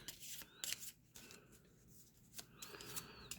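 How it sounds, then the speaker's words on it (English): A deck of cards being shuffled for a board wargame, brisk riffling bursts and soft rubbing flicks in a quiet room, with a few sharper snaps. "I'll just go ahead and shuffle these up"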